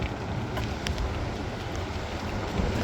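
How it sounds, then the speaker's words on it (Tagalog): Steady night wind at the seashore in Qatif, Saudi Arabia, during high tide, a constant broadband rush with faint water lapping, fairly loud and continuous with no voices. "medyo mahangin ngayon"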